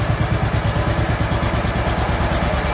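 A 1957 John Deere 520 tractor engine running in a higher gear, a loud close steady two-cylinder putt-putt pulsing evenly throughout with metallic clatter.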